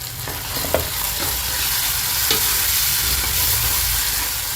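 Tomatoes frying in hot oil with turmeric and asafoetida, a loud continuous sizzle with occasional faint stirring taps throughout.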